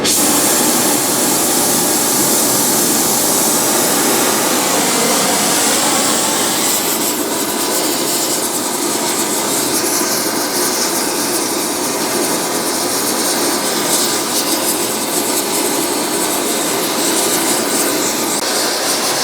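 A torch roars loudly and without a break as it slowly heats steel vise jaws that are being heat treated, a broad rushing hiss that holds steady throughout with no voices.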